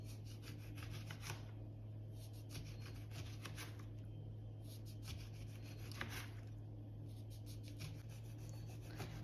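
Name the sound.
knife slicing a lemon into rounds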